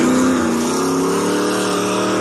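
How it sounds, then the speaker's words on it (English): An old Camaro pulling out of a parking lot, its engine a loud, steady drone with a slight pitch rise as it moves off, close and unbroken by talk. "This guy's backing up this old Camaro, pulls out of the parking lot."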